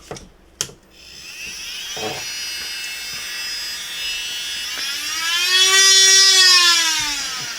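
A POWERWORKS 8V cordless rotary tool sanding, with a few sharp knocks first and then a steady high electric whine that rises in pitch and grows louder as the motor speeds up. It is close and there is no speech.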